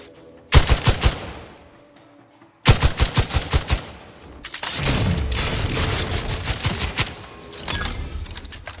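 Automatic gunfire in The Outer Worlds 2, loud bursts of rapid shots in two volleys, then sustained shooting mixed with blasts and clatter.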